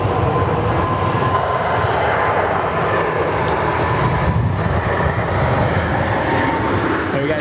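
An aircraft landing on runway 34 left at Sydney Airport, heard as a loud continuous broadband engine roar that stays steady throughout, with no clear voices over it.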